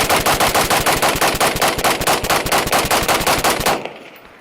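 An EMR-1 rifle fed from a Brownells magazine fires a rapid string of loud, closely spaced shots in an even rhythm for nearly four seconds, then stops and leaves a short fading tail.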